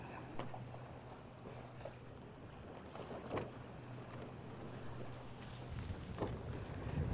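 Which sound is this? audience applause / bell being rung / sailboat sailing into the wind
sailboat sailing into the wind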